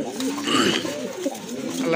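Pigeons sold as a breeding pair with chicks coo in soft, repeated, throaty calls close by, with a voice and other bird sounds mixed in.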